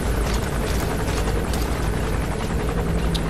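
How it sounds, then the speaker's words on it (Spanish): Helicopter in the video game Metal Gear Solid V: The Phantom Pain, a steady, loud rotor drone that holds constant throughout with no pauses. "Oigo el puto helicóptero"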